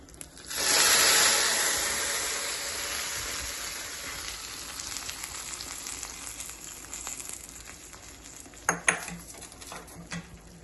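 Tadka sizzles as it is poured into rasam, a loud hissing burst that starts abruptly and then settles into a steady frying crackle. A few clinks of a metal utensil or lid ring out near the end.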